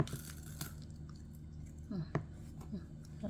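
A toddler chews food with soft, wet smacking and squishy bites close to the microphone, a few louder chomps near the end, with faint voices in the background.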